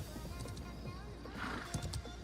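A horse in the fantasy MMO game Ashes of Creation gives a short whinny with a few clip-clopping hoofbeats, set against a faint low hum and some quiet background voice.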